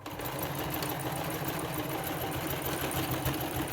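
A sewing machine runs continuously as it stitches back and forth on a fabric face mask, a steady close mechanical whir and rapid needle chatter, fairly quiet, with no talking.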